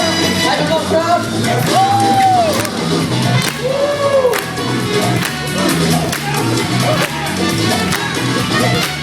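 A crowd at a competition cheers and shouts between rounds, a lively wash of yells and whoops close by with a few louder voices standing out over the general din.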